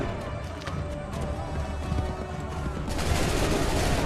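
Musket volley gunfire in Assassin's Creed III, a dense crackle of shots and battle din that swells and brightens toward the end, with galloping hooves and shouting voices mixed underneath.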